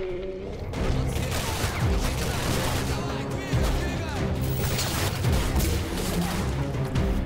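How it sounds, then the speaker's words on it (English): Rapid gunfire in the first-person shooter Singularity, dense overlapping shots and impacts filling the moment with game sound effects, loud and continuous, with some speech mixed in. "And then I'll take away his arm by shooting it."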